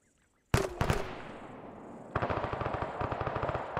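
Gunfire in the military shooter Arma 3 opens with a couple of sharp shots, pauses, then breaks into a long burst of rapid automatic fire, loud and close.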